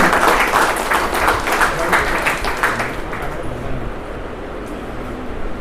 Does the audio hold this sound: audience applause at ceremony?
yes